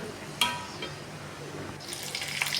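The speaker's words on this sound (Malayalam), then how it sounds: "കുറച്ചും കൂടെ വെള്ളം വേണം എന്നുള്ളവർക്ക് ഒഴിച്ചു കൊടുക്കാം" Water poured into a pot of jackfruit curry in a kitchen, a soft splashing stream after a brief knock, growing into a brighter, fuller pour toward the end.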